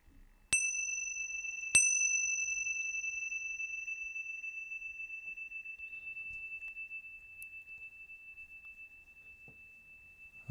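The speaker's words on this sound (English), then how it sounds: "And the sound of the bell moving through time." A meditation bell is struck twice in quick succession, each clear ring sustaining a long pure tone that slowly fades in an otherwise quiet room.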